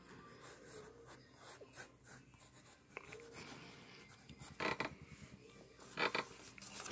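Pen drawing and coloring on paper: steady scratchy scribbling and rubbing strokes, close and fairly quiet, with a few louder bursts of quick hatching near the end and no talking.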